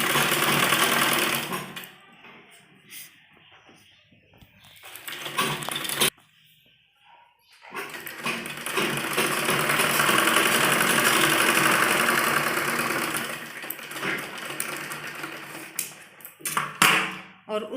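A sewing machine stitches net fabric for a child's frock in loud, steady runs, broken by short pauses and one near-silent gap, with faint clicks between bursts.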